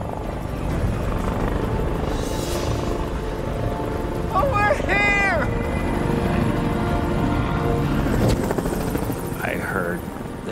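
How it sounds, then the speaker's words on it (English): Loud helicopter rotors thump and roar nearby and steadily as they approach a hiker stranded on a mountain ledge, while a person exclaims briefly partway through. "I heard the helicopters come back. It was so loud, I knew they were so close."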